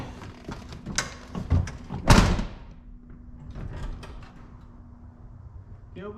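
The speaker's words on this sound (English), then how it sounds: "Let's see if we can get the door closed without tearing the handle off of it." A Dodge D250 Cummins diesel truck's sagging door is pushed and slammed shut with a loud thud, surrounded by rattling and clunking handling sounds.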